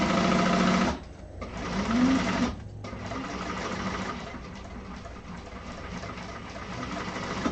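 A sewing machine stitching rough upholstery fabric for a carpet bag, running in close rapid bursts with brief pauses between runs of mechanical chatter.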